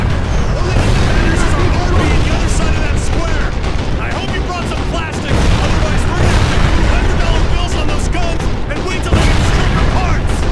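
Anti-aircraft guns and explosions in the Sniper Ghost Warrior 2 video game, a dense loud barrage of rapid booms and crackling bursts that never lets up, with voices talking over the din.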